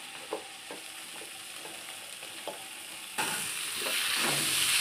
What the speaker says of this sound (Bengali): এবার আমি মটরশুঁটির পেস্টটা দিয়ে দিলাম